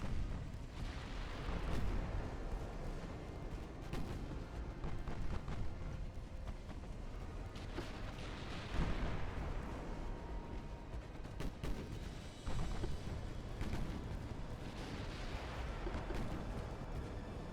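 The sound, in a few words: naval gunfire from Ultimate Admiral Dreadnoughts video game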